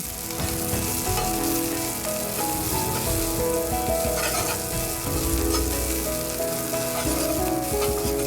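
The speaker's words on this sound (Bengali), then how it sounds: "সব জিনিসগুলো এই তেলের মধ্যে হালকা করে একটুখানি নাড়াচাড়া করে নেব" Grated ginger and green chillies stirred in hot oil, a loud, dense, steady sizzle with spatula scraping and a faint tonal hum beneath, close and without talk.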